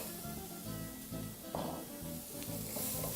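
Red onions dropped into a pan of frying spices for a Malay chicken curry give a soft, continuous sizzle, with a brighter burst of hiss and light stirring partway through.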